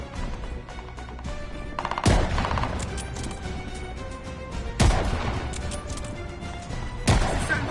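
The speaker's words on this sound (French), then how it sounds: "On essuie des tirs d'en haut." Gunfire rains down from above during a battle in the video game Vanguard: three loud, sharp bursts of shots spaced a few seconds apart, with crackling impacts and rumbling battle noise between them.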